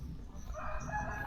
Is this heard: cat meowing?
no